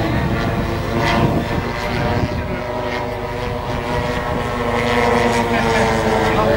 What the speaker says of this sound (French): Alors, c'est un avion qui fait de la voltige simple.